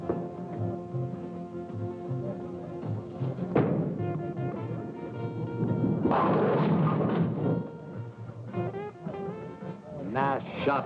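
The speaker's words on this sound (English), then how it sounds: "Why, Max, I just thought I'd do a little bowling." A bowling ball strikes pins in a 1961 suspense film scene: rolling rumbles and clattering crashes burst out over steady background music, one short thump and then a longer, louder crash.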